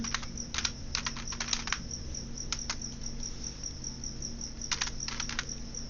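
Keys tapping on a computer keyboard while entering data in an Excel spreadsheet, heard as short scattered bursts of clicks over a steady background hum with a faint high tone.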